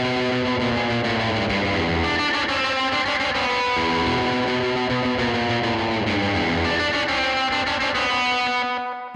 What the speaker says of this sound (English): surf guitar with a heap load of distortion